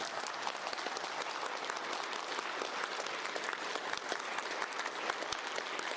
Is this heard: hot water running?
no